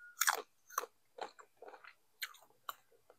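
Someone bites into and chews a soft, shriveled Autumn Beauty jujube, a run of close, crisp crunching bites in an uneven rhythm, one after another with no talk.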